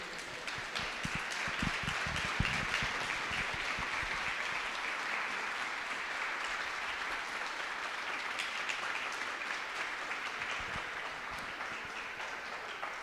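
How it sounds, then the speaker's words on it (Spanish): A church congregation applauds God during a Spanish-language sermon, sustained dense clapping from a crowd that carries on steadily for the whole stretch, with no talking over it. "Le podemos dar un aplauso a Dios."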